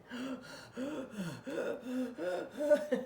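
A voice imitating heavy mouth breathing, a run of loud, ragged rasping breaths and pants, close up and rhythmic.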